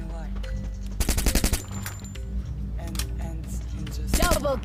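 Gunfire in the mobile battle game Free Fire: sharp bursts of rapid automatic shots in two or three clusters, loud and close, with quieter game noise between them.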